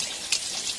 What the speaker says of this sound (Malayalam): തുള്ളി തുള്ളിയായിട്ട് കുളിക്കണ്ടേ ഇവിടെ ഇരിക്കുക